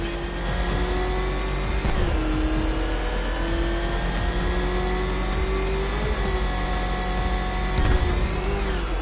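A ramshackle motor revving hard in Batman: Arkham Knight, the Batmobile in a high-speed chase: a loud, steady engine drone with rising whine, shifting pitch every few seconds, close and continuous.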